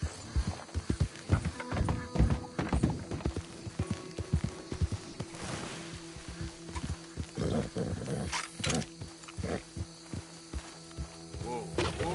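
A horse gallops in Red Dead Redemption 2 with quick rhythmic hoofbeats, snorts and harness rattle, close and moderately loud, with a vocal, roar-like burst partway through.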